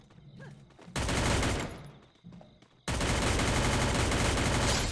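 Sustained automatic gunfire in the battle royale game Free Fire, two loud dense bursts with a short pause of quieter game sounds between them.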